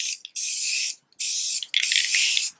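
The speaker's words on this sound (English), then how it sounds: "you can go ahead and just start spray painting" A spray paint can fires three bursts of sharp, close hiss during spray-paint art, with brief gaps between the bursts.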